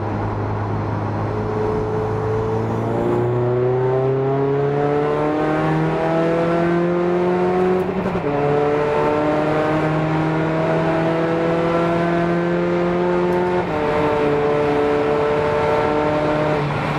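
A modified VW Caddy van with a 2.0 TDI CR diesel, DSG gearbox and 4-Motion drive, rated at 386 BHP, accelerating hard through several gear changes. Engine pitch rises steadily, then drops briefly at each shift, loud and close throughout.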